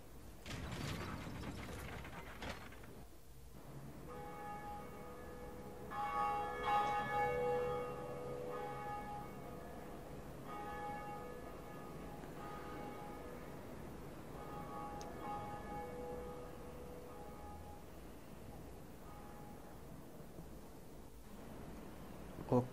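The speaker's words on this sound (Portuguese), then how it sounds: "Você tem que acionar dois sinos para o jogo realmente começar." A large bell atop a tower in the video game Dark Souls rings with a clanking mechanism, its sustained metallic tones lingering and slowly fading over a quiet background.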